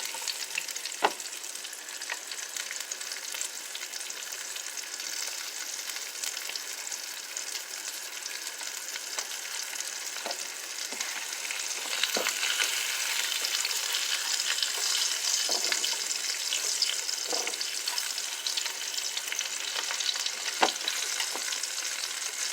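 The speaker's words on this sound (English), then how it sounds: "The onions will caramelize and start to turn translucent." Onions frying and caramelizing in a pan give a steady, even sizzle that swells a little partway through, with scattered soft clicks of stirring and no voices.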